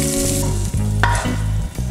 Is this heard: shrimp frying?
yes